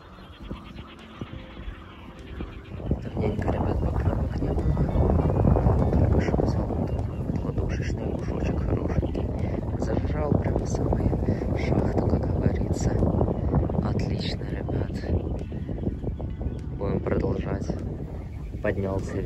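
A small fishing motorboat accelerates and speeds across water, its engine roar and rushing wind noise swelling after a quiet start and staying loud and continuous, with someone talking over it.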